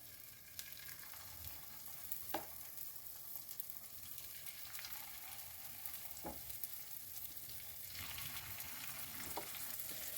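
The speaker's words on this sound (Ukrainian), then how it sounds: "смажимо з однієї сторони, а потім будемо з другої обсмажувати" Soft, steady sizzling of liver fritters frying in a pan, with occasional faint clicks and scrapes of utensils.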